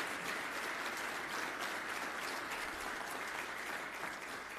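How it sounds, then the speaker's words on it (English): Steady, sustained applause from an audience at a county State of the County address, a dense even wash of clapping heard somewhat distant and moderately quiet throughout, with no talk. "can we give Tom a round of applause for that record of service?"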